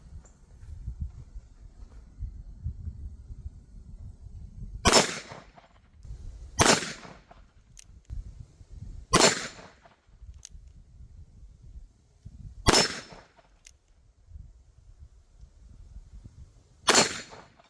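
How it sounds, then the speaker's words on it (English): Five sharp, loud gunshots from a Colt Peacekeeper double-action revolver at a shooting range, spaced a few seconds apart, each a crisp crack over quiet outdoor background. "This Colt Peacekeeper is super accurate, and with that double action, that light trigger is just mwah, crisp."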